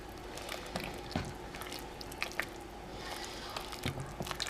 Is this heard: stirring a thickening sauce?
yes